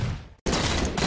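Video game gunfire bursts out as a dense, loud volley of rapid shots, briefly cut off by a split-second gap before resuming at full intensity.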